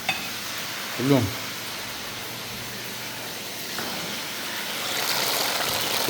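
Broadband frying hiss from french fries and spaghetti cooking in a business kitchen at a tourist complex, steady throughout, with a brief clatter near the start and the sizzle swelling louder toward the end.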